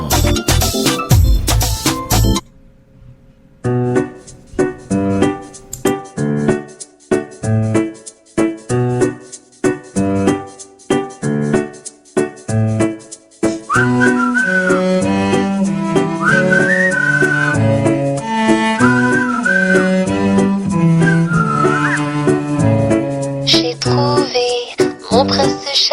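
A French pop song plays over the radio, opening with a short loud burst, then a steady rhythmic beat with a melodic line that rises over fuller backing in the second half.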